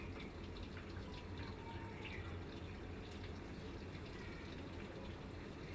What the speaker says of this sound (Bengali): দিয়ে দিলাম জল